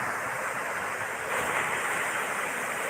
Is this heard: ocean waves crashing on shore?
yes